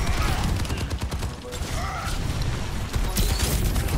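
A character's gun in Overwatch fires rapidly in a steady stream of shots, loud and close, with game effects layered over it and voices briefly heard.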